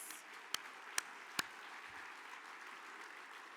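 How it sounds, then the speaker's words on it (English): A live business awards audience applauds, a steady soft wash of many hands clapping from a distance, punctuated by three sharp near claps early on. "Let's give one more big round of applause for all of our emerging companies."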